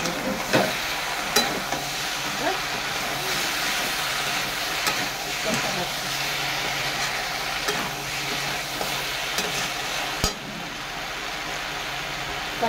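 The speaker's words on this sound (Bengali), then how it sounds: "টমেটো দেবো, কষাতেই থাকতে হবে" Shrimp curry sizzles and fries in a pan while a spatula stirs and scrapes through it, producing steady hiss with irregular clinks and knocks of the utensil against the metal.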